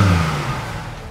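A Holden VT/VX Commodore with a 5.7-litre LS1 V8 giving a brief deep rev that fades into a lower rumble over about a second, close and without talk.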